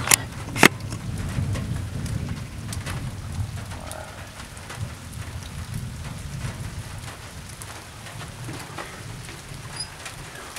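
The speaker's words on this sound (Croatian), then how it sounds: "Evo sve jače i jače." Steady rain patters densely on a surface during a hailstorm on Zlatibor, a continuous close hiss with a low rumble beneath, after a couple of sharp knocks at the start.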